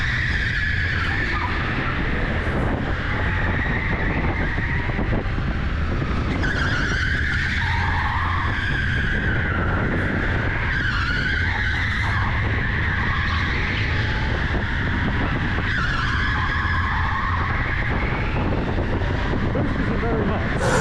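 Electric go-karts racing on an indoor track at TeamSport Preston, heard close up from the kart with a continuous whine, loud tyre squeal and skidding through corners, and wind buffeting the microphone throughout.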